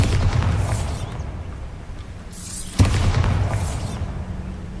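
Bombarda blasting spell going off in the Hogwarts Legacy video game, a single sharp boom near the middle with whooshing rushes around it over a low rumbling game backdrop.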